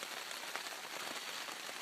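Rain falls steadily at a hiking trail camp on a cold morning along the Highline Trail, an even, close patter and hiss of drops with no voices.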